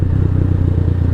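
A Venom X22R 250 motorcycle with a 223cc engine rides at night, its engine droning steadily and close with a low, rumbling pulse and faint rattle.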